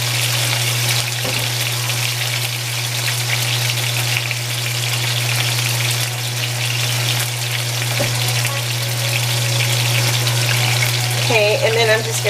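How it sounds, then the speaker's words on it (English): Pieces of lamb sear in a hot pan for an Asian lamb stew, with a loud continuous sizzle and crackle up close over a constant low hum, and a few brief clinks near the end. "Lamb meat, that is. So you want to sear them."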